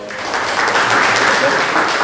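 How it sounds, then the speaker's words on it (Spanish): Audience applause at a university science lecture on Jupiter's atmosphere, a short, loud burst of dense, even clapping that holds steady throughout. "Démosle un fuerte aplauso, por favor."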